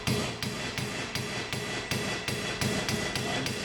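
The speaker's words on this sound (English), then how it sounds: "I'm just going to get a hammer and lightly hit them. I'm using a rubber mallet." A rubber mallet strikes car wiper arms near the windscreen, about nine sharp, evenly spaced taps roughly every half second, close and loud with no talking.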